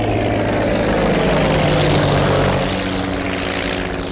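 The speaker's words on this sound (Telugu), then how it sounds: "ఏదేమైనా ఫస్ట్ టైం ప్రైవేట్ ఫ్లైట్ ఎక్కినందుకు చాలా హ్యాపీగా ఉందిరా" A private plane's propeller engine drones steadily and loudly throughout, a continuous close roar from inside or beside the aircraft.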